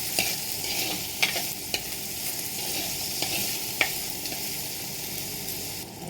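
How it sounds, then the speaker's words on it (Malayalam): Food with curry leaves sizzles in a pan while a utensil stirs it, giving scattered clinks and scrapes over a steady frying hiss, close up and without speech. "ഒന്ന് ഇളക്കി കൊടുക്കാം."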